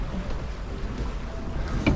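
Strong wind of about 30 knots roars steadily around a small sailboat on a solo passage across the Irish Sea, a loud, continuous gusting rush with water and hull noise and no voices.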